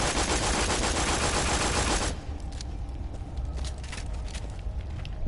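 Rapid SMG fire in Borderlands 2, a dense sustained burst for about two seconds that cuts off abruptly, followed by quieter scattered shots and game noise.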